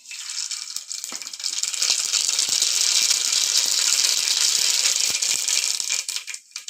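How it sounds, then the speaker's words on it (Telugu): Mustard seeds splutter in hot oil during a Telugu home-style cooking session, a dense, steady crackling with sharp pops that stays loud and close for several seconds before easing off at the end. "ఆవాలు అయితే చిటపటలు ఆడినాయి కదా"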